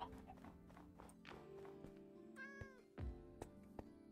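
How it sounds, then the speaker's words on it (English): A cat in Minecraft meows once, a clear drawn-out call, amid soft clopping steps and light background music. "Oh, I hear a cat."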